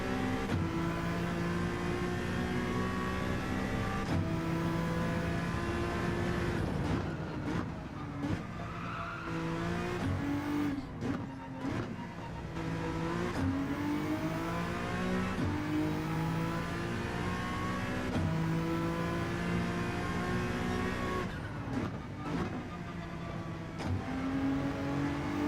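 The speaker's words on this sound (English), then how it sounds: "It's just habit when I hear the engine revving like that." Race car engine in Gran Turismo 7 during an online daily race, revving hard through repeated upshifts and downshifts with rising and falling pitch, plus occasional tire squeal, loud and continuous throughout with no talking.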